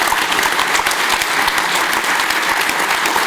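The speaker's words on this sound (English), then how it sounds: "Would you please give a round of applause to our panelists?" An audience at an economic panel event claps for the panelists, a continuous close and fairly loud wash of hand claps filling the whole moment with no voices over it.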